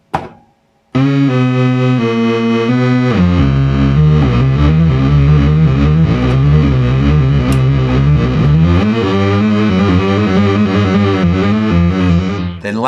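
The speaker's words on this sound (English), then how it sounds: "if you do it with the noise wave, it should be pretty random" A Moog Rogue synthesizer plays a loud, thick, distorted tone, with a sustained sound shifting pitch in stepped movements after a short burst at the start.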